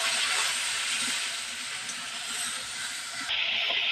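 A spice masala fries with a splash of water in a pan for Bengali egg curry, giving a steady, loud sizzling hiss that carries on without a break and eases slightly near the end.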